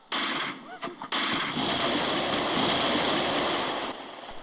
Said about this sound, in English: The Confederates opened fire upon us with artillery.